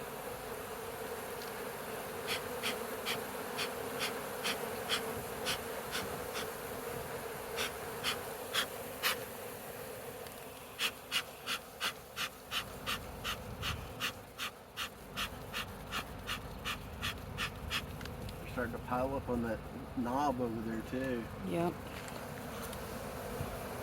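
Honeybees pour out of the end of a log being removed, a steady droning hum running throughout, with a string of sharp rhythmic clicks and taps over it and people talking briefly near the end.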